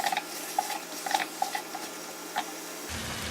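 Biryani masala and softened tomatoes sautéed in a pot, with a steady low sizzle and a series of light clinks and scrapes from stirring against the metal.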